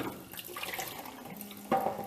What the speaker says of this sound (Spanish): Lo vuelvo a llenar de agua.